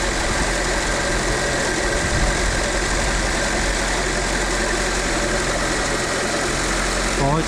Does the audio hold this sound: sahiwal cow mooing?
no